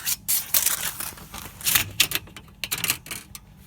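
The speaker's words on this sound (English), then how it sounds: "Just tape measure." A tape measure is pulled out and handled during a drawer fridge build, giving a quick series of light rattling, clicking and scraping taps that come in irregular bursts, fairly soft, with no talking.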